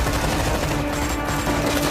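Sustained rapid gunfire effects in a dubbed action film fill the track, loud and dense like machine-gun bursts, with no voices heard.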